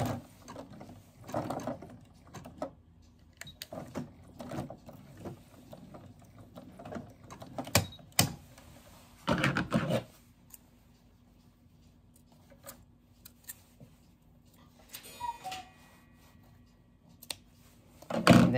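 A sewing machine zigzag stitches and backstitches coiled rope into a mini rope bowl. Irregular bursts of close mechanical clatter are broken by pauses and handling sounds, with no talk.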